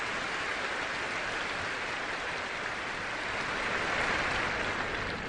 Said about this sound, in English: just making a pirouette and you're applauding already